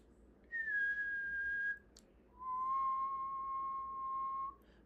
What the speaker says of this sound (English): So I whistled, okay,